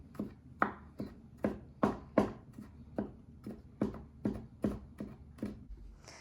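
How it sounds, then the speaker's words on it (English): A knife mincing garlic cloves on a cutting board for candied jalapeños, about fourteen crisp, close chops in a fairly even rhythm with short quiet gaps between. "I usually mince up quite a few cloves to go into my cowboy candy"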